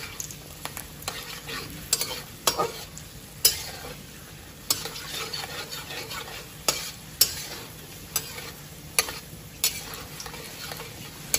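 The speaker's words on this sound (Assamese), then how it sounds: "গল্ডেন ব্ৰাউন হোৱালৈকে আপোনালোকে ভাজি ল'ব।" Cashews being fried in ghee until golden brown, a steady soft sizzle with repeated sharp stirring scrapes of a spoon against the pan, close and continuous with no talking.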